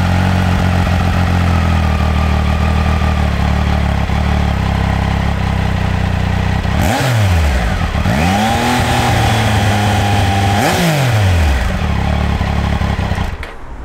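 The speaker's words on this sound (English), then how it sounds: "So with each of the three cylinders firing at even intervals, you get a very smooth sound out of the exhaust." A Triumph Tiger 900 dealer demo motorcycle with a three-cylinder engine idles with a smooth, steady exhaust buzz, then revs up sharply twice. Each rev rises and falls back to idle, loud and close, with no voices.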